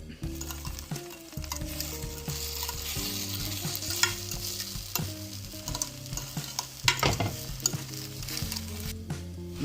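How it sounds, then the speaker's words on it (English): Pasta sauce sizzles steadily in a pan while being stirred, with continuous frying crackle and scraping stir strokes throughout, close and fairly loud, with a strong tonal hum underneath and no talking. "Now let's start stirring this."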